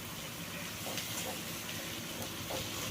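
Vegetables including capsicum sauté in a covered pan for noodles, giving a steady, soft hiss and sizzle with faint crackles, low and continuous throughout.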